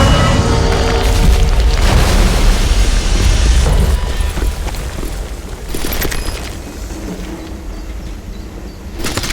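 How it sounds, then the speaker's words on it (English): A bridge blown apart in the Western game Call of Juarez, a loud, sustained explosive roar with crashing debris and rumbling that swells, dips and flares again across several seconds. "My ears are still ringing from blowing up that bridge."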